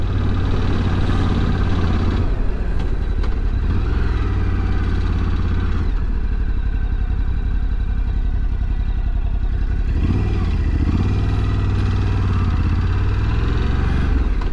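A Ducati Scrambler Sport Pro 1100 motorcycle being ridden through city streets around Seattle, with a steady loud engine drone and mechanical clatter that lasts throughout, rising and falling slightly as the ride goes on.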